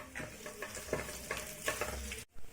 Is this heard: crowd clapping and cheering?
no